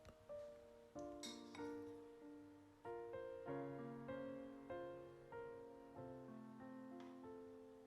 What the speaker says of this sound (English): I'm topping it off with a heaping spoon of almond butter, half a banana, some chia seeds, and a generous portion of maple syrup.